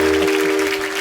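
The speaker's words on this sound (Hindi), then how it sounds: "ताली बजा भाई।" Studio audience applause greets Bollywood entertainer Govinda on The Kapil Sharma Show, a steady burst of clapping over sustained music tones that eases slightly toward the end.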